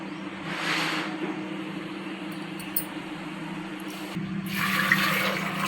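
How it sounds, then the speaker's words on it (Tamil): Water poured into soaked white rajma beans before pressure-cooking, a steady rushing splash that swells at the start and again near the end, close and moderately loud with no talking. "தண்ணி சேர்த்துக்குங்க,"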